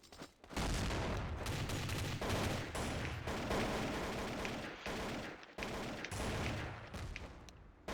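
FAMAS rifle gunfire in Counter-Strike: Source plays as loud, sustained automatic bursts, with brief pauses between strings of rapid shots and no talking.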